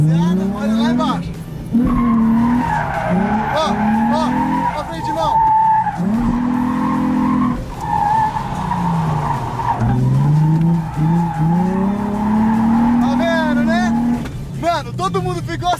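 A Nissan 350Z drifts on the handbrake, its engine revving hard as the tires squeal in long, repeated screeches nearby, while excited voices talk over the noise.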